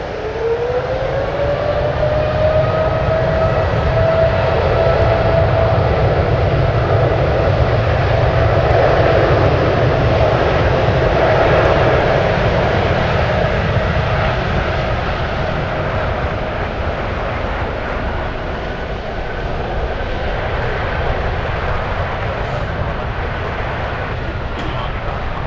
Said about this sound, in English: And the Dreamliner cleared for takeoff.